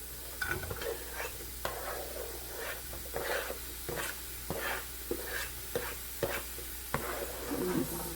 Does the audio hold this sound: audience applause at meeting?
no